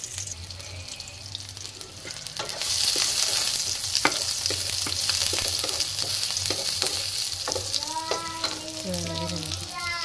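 Sardines sizzle and fry in a pan without garlic, a steady crackling hiss broken by stirring clatters, with a brief run of water near the end.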